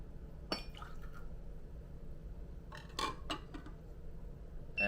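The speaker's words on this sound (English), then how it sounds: "Pour out the water." Preheat water poured out of a glass coffee server for a Hario V60 brew, quiet liquid splashes and a few glassy clinks, with a light clink at the start and a short burst of pouring near the end.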